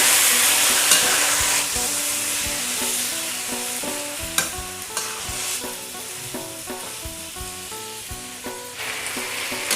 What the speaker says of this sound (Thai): พอน้ำมันเดือดเราก็นำหมูลงไปผัดนะคะ ใช้ไฟอ่อนๆนะคะ เราจะผัดหมูให้สุกก่อนนะคะ